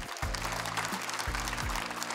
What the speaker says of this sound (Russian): Аплодисменты подряд Умерзаеву